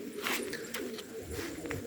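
Released pigeons coo in soft, low, repeated calls outdoors, with a few brief rustling bursts that may be wingbeats, at moderate distance and no talking.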